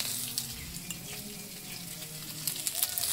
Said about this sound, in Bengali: তেল গরম হয়ে গেল, এই পটলগুলো ভাজি দিলাম।